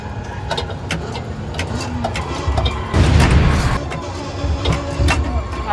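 A car engine roars and shifts pitch in an arcade racing video game on a busy expo floor, with a louder burst partway through and a player's voice over it.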